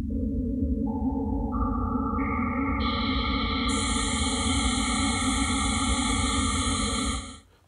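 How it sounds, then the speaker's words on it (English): White noise from a Buchla 296e spectral processor, passed through only its odd-numbered filter bands, builds up band by band into a steady, loud, ringing comb-filtered hiss, then cuts off sharply at the end. "so that's what odd white noise sounds like"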